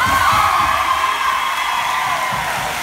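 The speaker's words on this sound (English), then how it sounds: "So everybody give them a round of applause." Crowd at a Willcox Cowboys football gathering cheers and applauds the departing head coach, a loud, continuous wash of clapping with whoops and shouts blended in.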